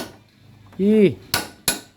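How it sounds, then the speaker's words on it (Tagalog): Three sharp metallic taps ring out in quick succession as a Kawasaki Rouser 135 engine part is gently hammered during disassembly, preceded by a brief resonant clang, close and fairly loud with no talking. "dandahan lang pukpok"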